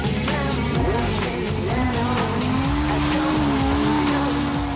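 A Legends race car spins on a racing track, a loud engine drone under sustained squealing tires that wail and bend in pitch as the car slides, with other cars roaring nearby throughout.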